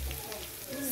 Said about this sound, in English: you pour the Irish potato inside the frying pan and fry